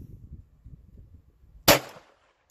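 A single sharp, loud gunshot from target shooting cracks out and decays quickly over a faint low background murmur, fired by a sibling shooting for the first time.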